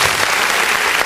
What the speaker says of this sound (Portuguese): Pode dar uma salva de palmas em nome de Jesus.